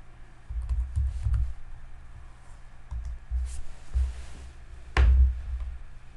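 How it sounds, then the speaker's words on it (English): Keys pressed on a FANUC robot teach pendant keypad, a handful of soft, irregular clicks and taps in short bursts with pauses, ending in a slightly louder press. "Forgive my typing here."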